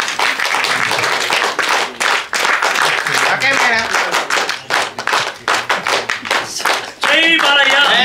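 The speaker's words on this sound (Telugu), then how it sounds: "1 2 1 2 3 క్లాప్ చేయండి ఒకసారి" At a Telugu film event for the movie Dada, an audience claps together in a sharp, rhythmic pattern of loud, close hand claps, with voices chanting and talking over the beat throughout.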